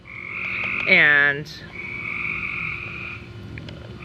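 Frogs croak in bushes outdoors, a steady buzzing trill running through most of the moment, with one louder rising croak near the start and a brief word spoken over it.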